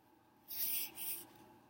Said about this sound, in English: I'm going to fold the paper this way.